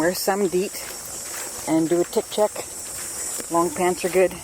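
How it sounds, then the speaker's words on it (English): Cicadas in Presqu'ile Provincial Park keep up a continuous thin, high-pitched buzz in the background while a person talks over it in the foreground. "Can you hear the cicadas in the background?"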